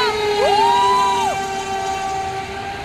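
A train passes near a station, sounding a long, loud horn with rising and falling tones over a steady rumble that gradually eases off.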